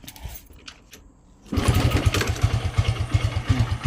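A Modenas GT128 motorcycle with a newly replaced kick starter fires up after a quiet moment, then settles into a loud, rapid, steady putter at idle close by.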